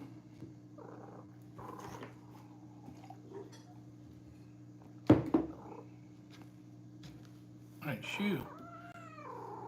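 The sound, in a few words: cat purring and meowing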